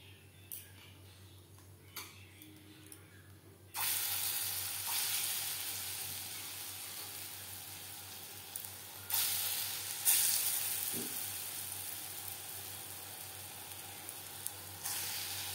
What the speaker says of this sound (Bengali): বড়াগুলো ভাজবো রিফাইন্ড অয়েলে